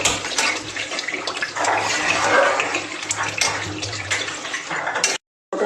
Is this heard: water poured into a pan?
yes